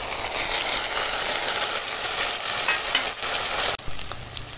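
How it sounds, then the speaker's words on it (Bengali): Grated onion and ginger-garlic paste frying in hot oil give a steady, loud, dense sizzle that runs without pause, with a short dip near the end before the hiss picks up again. "পেঁয়াজটা প্রায় ভাজা হয়ে গেছে, এবার আদা রসুন বাটাটা দিয়ে দিলাম।"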